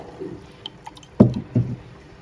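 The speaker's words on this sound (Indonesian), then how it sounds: "Kemudian untuk sisa di dalam kaleng, tambahkan lagi 50 ml air." Water poured into a pan of condensed milk, rinsed from the can, for a pudding: soft, close splashes and a couple of heavier liquid pours, with quiet kitchen noise between them.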